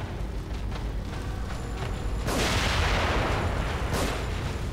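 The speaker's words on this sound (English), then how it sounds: "Nice explosion." An explosion in the horror video game The Evil Within: a broad, rumbling blast swells out of a noisy game soundscape midway and rolls on, with a second burst near the end and no speech over it.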